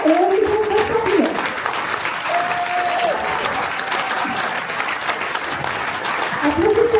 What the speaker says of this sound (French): Applaudissez-les parce que c'est un grand travail qu'ils ont effectué.